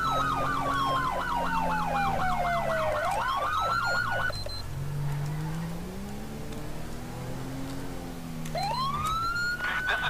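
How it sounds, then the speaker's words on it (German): Police car siren in the video game GTA 5, a loud wailing and yelping electronic siren that sweeps up and down continuously over a low engine drone, switching patterns partway through. "Dann machen wir mal hier die Sirene an."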